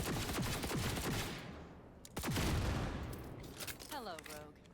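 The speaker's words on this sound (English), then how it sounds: "You can shoot very fast." Rapid gunfire from a semi-automatic weapon in Cyberpunk 2077 crackles in quick bursts with echoing tails, loud and close, and a voice speaks briefly near the end.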